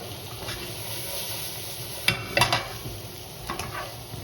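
Homefries seasoned with cumin are stirred in a pan over a soft background sizzle, with a few sharp scrapes and clinks of the utensil against the pan in short bursts.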